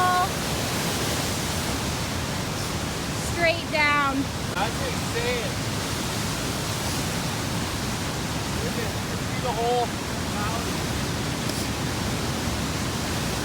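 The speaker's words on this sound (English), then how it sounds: "Oh my gosh, look at this. Waterfall." Rushing water from a waterfall seen from a high cliff edge above a valley, a steady broad roar filling the whole clip while people talk excitedly over it, with a few whistling bird calls.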